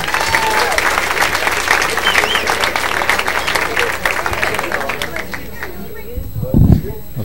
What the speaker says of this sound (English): Let's have a big round of applause for Mitch Hedberg.